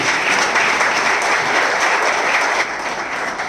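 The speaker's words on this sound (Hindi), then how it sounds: "हमारे great upline mister Vikrant Kumar ji के लिए जोरदार ताली।" A crowd at a direct-selling business meeting gives loud, sustained applause, a thick and continuous clatter of many hands that eases slightly near the end.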